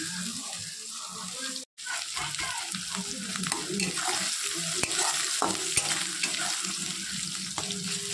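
Chow mein noodles with chicken stir-fry in a hot pan, a loud continuous sizzle with scraping tosses and utensil clatter, briefly cut off near the start, then steady.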